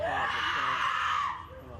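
Family members screaming inside a courthouse after a prison sentencing, one sustained loud, anguished wail that holds steady and then tapers off.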